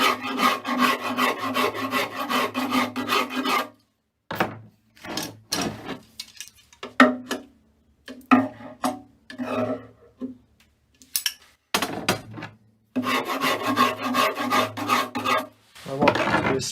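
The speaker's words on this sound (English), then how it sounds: "by this stage here I'm using something a little bit finer. Coarse rasps." Coarse rasp filing wood during an acoustic guitar build, with long bursts of steady back-and-forth rasping at the start and end and shorter separate strokes in between, close and loud.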